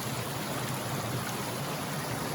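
Creek water runs steadily in a continuous broadband rush near a waterfall at a state park, with no voices over the flow.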